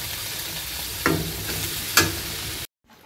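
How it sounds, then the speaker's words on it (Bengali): Sliced bitter gourd sizzling in a frying pan, constant hiss broken by two sharp scraping stirs before the sound cuts out abruptly. "এই দেখো এখানে উচ্ছে ভাজছে"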